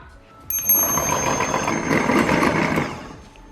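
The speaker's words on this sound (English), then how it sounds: "I'm going to whisk the egg whites. So let's just do that now." Egg whites whisked for a tres leches milk cake: a steady, close mechanical whirring starts abruptly, runs evenly for a few seconds with a slight swell, then dies away.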